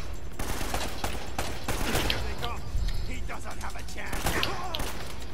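Gunfire in the action game Uncharted: Drake's Fortune, a run of several sharp shots and thuds over steady game music and noise, with a voice talking over parts of it.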